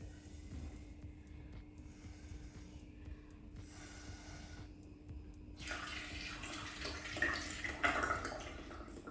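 Water trickling and splashing through a ball-rolling toy in a children's sensory bin, a steady low wash that grows brighter and busier with splashes and drips toward the end, close by with no talk.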